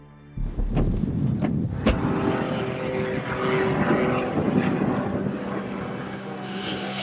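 A propeller airplane flies in to land on a moving train, a steady loud buzzing engine drone with rushing wind that holds throughout, with a hint of rumble underneath.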